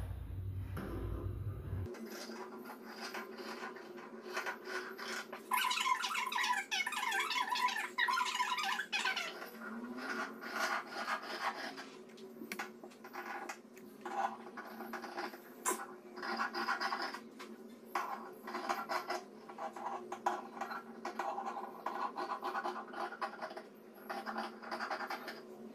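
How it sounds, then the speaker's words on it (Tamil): Fabric for a blouse is cut with scissors, giving repeated dry scratching and snipping strokes that run steadily and close up, with no voices. "இப்போ நம்ம வந்து இந்த பீஸை வந்து கட் பண்ணிக்கலாம்"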